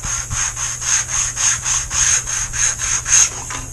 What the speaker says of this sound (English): We're going to sand this down a little bit.